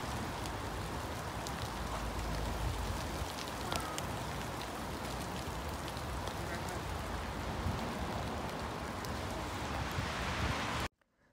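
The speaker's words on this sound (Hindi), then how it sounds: "जब घर से बाहर निकले तो पता चला इतनी तेज़ बारिश हो रही थी" Heavy rain pours down outside at night, a dense, even hiss of drops striking surfaces that carries on steadily and loudly before cutting off abruptly at the end.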